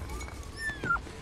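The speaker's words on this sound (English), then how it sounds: "Oh, doggy. I love dogs." A dog whimpers faintly in a couple of short, rising high whines lasting about a second, set low against a soft background hum.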